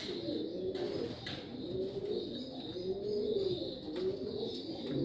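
Several young Jacobin pigeons in a cage coo in low, rolling repeated phrases, steady and moderately close, over a faint background hiss.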